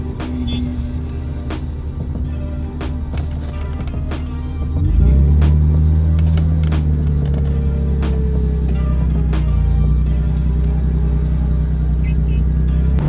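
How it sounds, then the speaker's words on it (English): A BMW E36 M3 with a muffler exhaust pulls in third gear at around 30 mph, a steady close engine drone that deepens and swells midway as it accelerates, with road rumble beneath and no talking. "We're at around 30 miles per hour, speeding up. We're in third gear right now."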